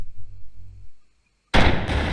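A tank cannon fires at another tank in a multiplayer tank video game, a single loud sharp blast after a quiet engine hum, followed by a rumbling boom that lingers to the end.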